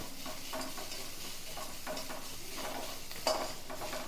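Grated coconut frying in oil in a pan, with a steady low sizzle under repeated soft stirring scrapes and one brief metallic clink near the end.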